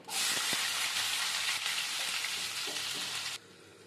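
Chopped onions dropped into hot oil with tempering seeds for a dried prawn gongura curry give a loud, continuous, close sizzle that cuts off abruptly near the end.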